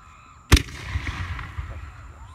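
A gender reveal firework launches outdoors with one loud sharp boom followed by a crackling, fading tail of smaller pops and rumble.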